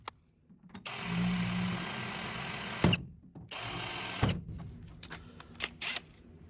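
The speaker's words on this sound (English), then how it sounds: "Take a pilot bit, drill out the holes where the witness marks are." A power drill bores pilot holes for horse trailer anchor rib nuts in two steady sustained bursts, with sharp clicks and short gaps between, close up and fairly loud with no talking.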